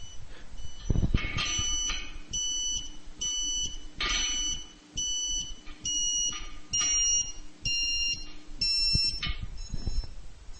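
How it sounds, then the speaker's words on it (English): A Ka-Sat satellite internet antenna alignment beeper repeats high electronic beeps in a steady series, roughly one per second, with occasional handling thumps and scraping as the dish is adjusted. "Until you hear the beeper level drop."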